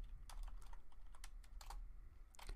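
A password is typed on a computer keyboard in a quick, uneven run of soft key clicks with brief gaps. Faint and close, with no talking.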